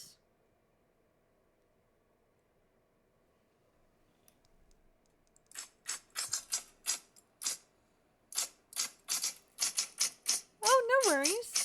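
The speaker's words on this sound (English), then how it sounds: "Video with typewriter noises." Typewriter keys clack in irregular bursts from a played-back recording after several seconds of near silence, the strikes fairly faint, with a voice briefly audible at the end.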